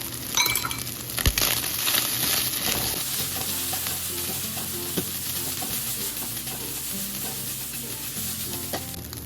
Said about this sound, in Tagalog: ngayon na-prito na natin yung ating pork at medyo lumalabas na yung mantika niya